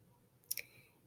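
A single computer mouse click, with a quick double tick, selects an option from a menu in a quiet room. It is crisp and close, with no talk over it.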